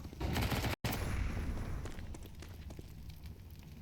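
Pistol fire during a Counter-Strike pistol round: a dense, loud burst of rapid shots up front, followed by scattered sharper cracks over the rest of the exchange.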